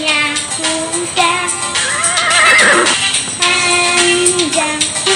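A horse neighs loudly and close by, a long wavering whinny that rises and falls in several bursts across a few seconds with no talk.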